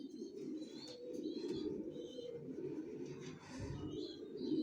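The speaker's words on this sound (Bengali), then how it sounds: "কোয়ালিটির কবুতর এগুলা" Racer-breed pigeons cooing in a loft where a pair is offered for sale, a steady low murmur of overlapping coos with a few brighter chirps above, close and continuous throughout.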